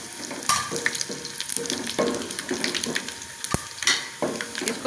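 Garam masala frying with light-browned onions in a pot for matar pulao, a steady sizzle with intermittent stirring scrapes and soft clinks, close by, with no talk.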